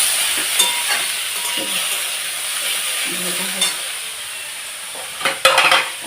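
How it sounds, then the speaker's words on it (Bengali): Onion pakoras frying in a home kitchen pan, a steady broadband sizzle running throughout with a few louder bursts and clinks near the end. "এই যে আমাদের পকোড়ি হচ্ছে"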